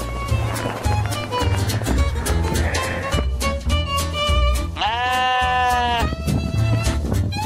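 Sheep bleat at a mountain sheep farm amid lively background music, with one clear, drawn-out bleat standing out near the middle and rhythmic movement around it.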